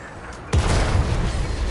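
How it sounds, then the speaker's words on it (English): In World of Tanks, an artillery shell slams into a tank with a sudden heavy boom that rolls into a sustained low rumble, following a quieter moment of hiss and game noise. "I got hit by artillery."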